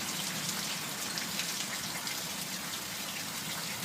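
Rain falls steadily during an ice rain storm, a dense even hiss of drops with no pauses, fairly faint and without voices.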